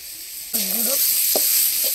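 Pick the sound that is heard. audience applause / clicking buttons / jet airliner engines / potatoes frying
potatoes frying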